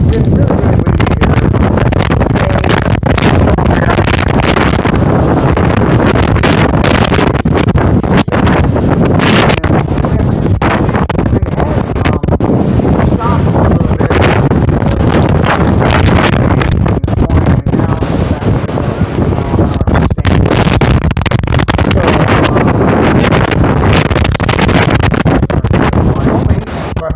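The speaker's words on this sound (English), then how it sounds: "So it's been really, really windy here." Strong wind at a fort, gusting steadily and loudly across the microphone with constant roaring buffeting and rustling throughout, no clear pauses.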